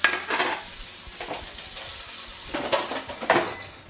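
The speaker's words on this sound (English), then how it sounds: "I'm just going to fry this for a few minutes" Pieces of assorted meat for a Nigerian stew fry and sizzle in an air fryer, with soft crackling and a few bright utensil scrapes and stirs rising and fading.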